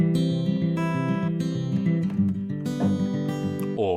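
Acoustic guitar fingerpicking pattern of evenly plucked notes and ringing chords in a steady rhythm, close and clear, with no voices.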